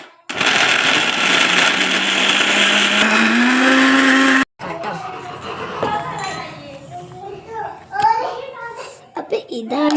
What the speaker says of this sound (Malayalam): ഇനി നമുക്കിതൊന്ന് അരച്ചെടുക്കാം കേട്ടോ.